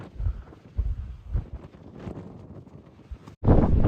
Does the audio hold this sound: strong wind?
yes